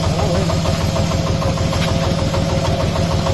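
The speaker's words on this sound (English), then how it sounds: "Diesel concrete pan mixer." Diesel concrete pan mixer engine running near a QT4-30 diesel hydraulic block machine, a loud, steady, close chugging idle with rhythmic knocking pulses throughout.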